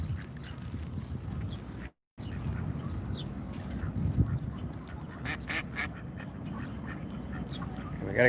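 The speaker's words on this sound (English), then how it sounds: "We gotta get the land ducks here to trust us." Several ducks quack outdoors in Washington DC, a cluster of short clear calls rising over low ambient noise with occasional voices, plus a brief silent dropout early on.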